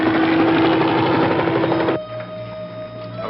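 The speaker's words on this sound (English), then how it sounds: "There's a helicopter directly overhead." Helicopter hovering overhead on a TV action series soundtrack, a loud steady rotor and engine drone that drops to a quieter, thinner hum partway through.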